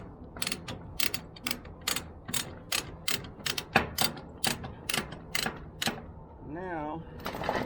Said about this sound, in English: I'm gonna go ahead and tighten the chain.